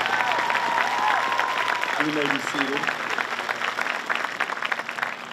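Applause from a high school graduation crowd, a continuous crowd clapping heard under a speaker's voice and a few words from the stage, steady throughout and thinning slightly at the end.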